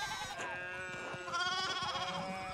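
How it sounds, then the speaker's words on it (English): Sheep in Pentiment bleat repeatedly in wavering, nasal cries, several animals overlapping at close range with no talk over them. "one of the fence rails fell and the sheep started hopping it"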